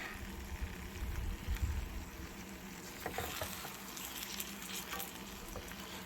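Beef stew ingredients stirred together in a cast iron pot, giving a soft, steady sizzling bed with scattered scraping and clinking taps from the stirring, moderately loud and without speech.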